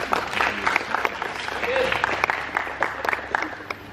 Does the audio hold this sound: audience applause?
yes